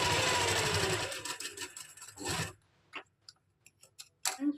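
A sewing machine stitches a kameez neckline in one steady, close whirring run of about two and a half seconds, then stops, leaving a few scattered clicks and taps before a brief final burst.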